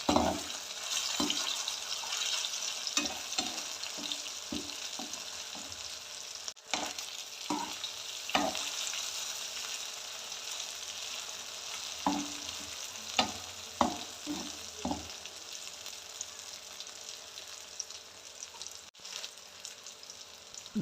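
Soya chunks deep-frying in oil on a high flame, a bright continuous sizzle with bursts of crackle and spoon clatter against the pan, close and fairly quiet.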